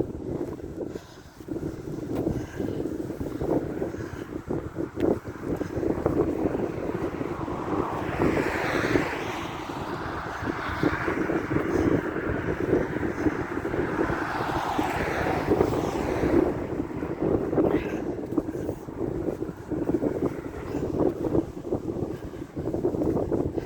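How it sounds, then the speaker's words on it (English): Strong wind buffets the microphone continuously beside a fast road on a walk from Mossfield to Dalmore, a loud low roar with rushing gusts and no voices. "Yeah, it gets pretty windy down here"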